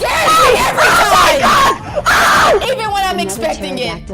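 Loud, repeated screams burst out in the dating visual novel ValiDate: Struggling Singles in Your Area, with several sharp shrieks and gasping cries in quick succession.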